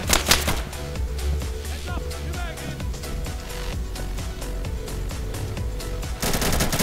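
Rapid automatic gunfire in the Insurgency video game, dense clattering bursts running almost continuously at close range, with a heavier burst at the start and end.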